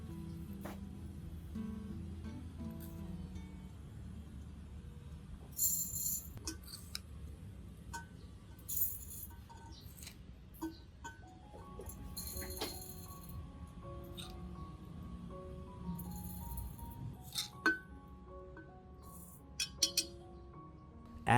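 Metal spoon scooping rice into a glass container, a scatter of light clinks and ticks at irregular intervals, quiet and close against a low background hum, no speech.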